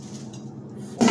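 A plastic pot and pan are unboxed and handled. Quiet shuffling gives way to one sharp, close clink near the end.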